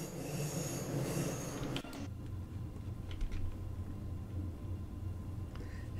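A train runs on rails in the Train Sim World 4 video game, a near rolling rumble with clacks and faint squeals, fairly quiet overall.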